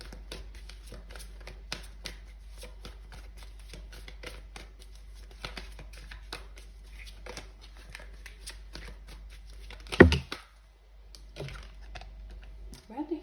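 Tarot cards handled and shuffled close up, with a run of quick, soft riffling flicks and a sharper burst of cards near the end, as someone talks quietly over them.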